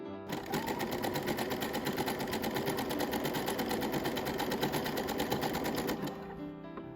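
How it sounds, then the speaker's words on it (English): Sewing machine stitching a 4 cm skirt hem with an invisible stitch foot, a fast, even, close mechanical whirr running steadily for about six seconds before stopping, with no talking. "use an invisible stitch foot on your machine as I'm doing here"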